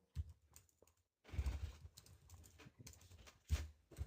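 Keyboard typing in irregular bursts of clicks and key taps, fairly close, during a design software session; no talking.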